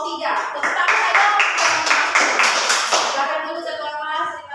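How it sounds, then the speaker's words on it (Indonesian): A classroom of pupils claps for a class leader, a dense burst of hand claps lasting about four seconds, loud and close, with some voices mixed in. "Oke, tepuk tangan untuk ketua kelas dari kelompok 3."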